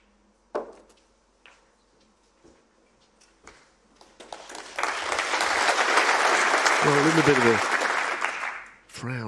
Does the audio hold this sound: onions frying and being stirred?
no